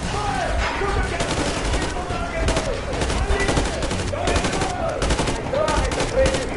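Sustained bursts of automatic gunfire crackle continuously at close range, with shouting voices mixed in among the shots.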